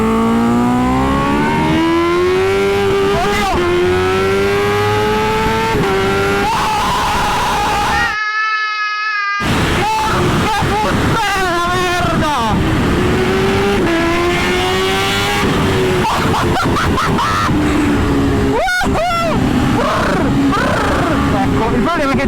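A supercharged Kawasaki H2R motorcycle accelerates hard on a track, its engine pitch climbing steeply through repeated gear changes, loud and close, with someone talking excitedly over it.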